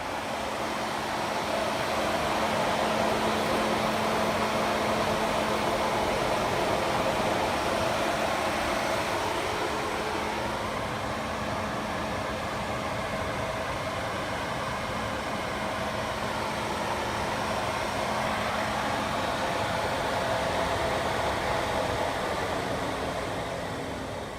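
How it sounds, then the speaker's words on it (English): Fans run with a steady, even whoosh and hum for the whole stretch, holding a constant level throughout with no voices over it. "I didn't want to talk with those fans on."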